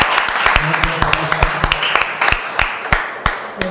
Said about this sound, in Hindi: स्वागत है, जोरदार ताली